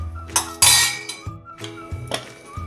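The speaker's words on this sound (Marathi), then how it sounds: "आणि आता हे कुकरचं झाकण बसवून तीन शिट्ट्या मी करून घेते" Metal pressure cooker lid being set and fitted onto the pot in a home kitchen while cooking rice, giving a few sharp clinks and clanks of metal on metal close by, with short gaps between the knocks.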